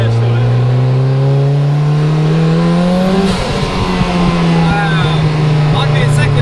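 Turbocharged 414bhp Lotus engine droning loud and close from inside the car, pitch climbing steadily under acceleration, then a shift and renewed rising pull, with voices heard over it.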